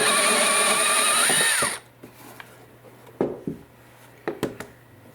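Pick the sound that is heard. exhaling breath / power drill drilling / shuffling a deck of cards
power drill drilling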